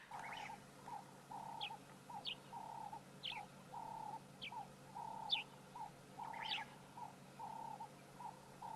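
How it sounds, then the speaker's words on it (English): Layered outdoor birdsong of guinea fowl, turtle doves and starlings in the African bush at sunset: repeated mid-pitched calls in a steady rhythm with brief higher chirps scattered over them, moderately distant, no talking. "You can hear guinea fowl,"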